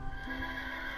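A horse neighs in a video game, a sustained whinny layered over steady game background noise with no talking.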